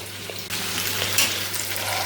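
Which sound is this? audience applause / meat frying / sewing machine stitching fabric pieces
meat frying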